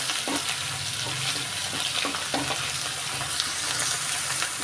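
Ginger, garlic and fennel seeds frying in hot oil for a spicy vegetarian salna, a steady close sizzle with soft stirring scrapes recurring throughout.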